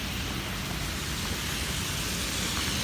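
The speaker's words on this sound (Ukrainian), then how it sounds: "Несподівано для нас всіх почав падати ось такий маленький невеличкий град." Small hail falling in Lincoln, Nebraska, a dense, even patter and hiss of tiny pellets that holds steady and fairly loud throughout, with no voices.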